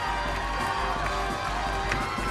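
On a kids' game show set, a teammate cheers on a contestant amid a noisy studio crowd, shouts and cheering over a constant hum, busy and loud throughout.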